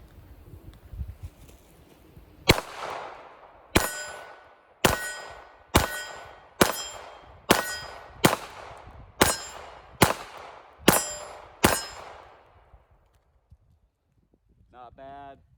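Ten sharp shots from a Ruger LCP Max pistol with a 12-round magazine ring off a close steel target, evenly spaced at roughly one per second, each crack trailing into a bright metallic ring.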